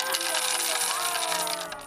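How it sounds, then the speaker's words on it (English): A dense, continuous metallic jingle of many coins pouring out of bamboo tubes and clattering together, loud and close, trailing off at the end. "Waiting to pour out the coins in the bamboo tubes."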